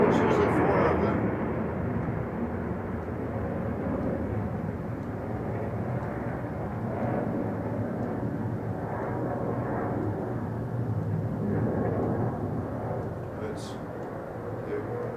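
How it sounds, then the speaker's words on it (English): Distant roar of an F-16 fighter jet taking off, a steady broad rumble that swells slightly and holds throughout. "Now we have an F-16 taking off."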